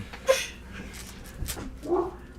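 A guard dog gives several soft, high whimpers and whines, close and fairly quiet, spread in short bursts over a couple of seconds.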